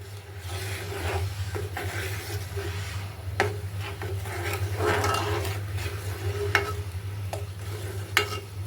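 Grated jaggery being stirred into hot water in a pan, with a steady scraping, stirring rub over a low background hum and a few sharper knocks of the spoon against the pan, close and without talk.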